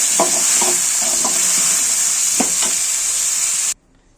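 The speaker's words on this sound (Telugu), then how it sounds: "కొంచెం బాదం, కిస్మిస్, కాజు, తర్వాత కొంచెం చిరంజి వేసి బాగా ఫ్రై చేసుకోవాలి" Almonds, raisins, cashews and charoli fry in a pan for mutanjan, giving a loud, steady close sizzle with a few soft stirring knocks, before the sound cuts off abruptly near the end.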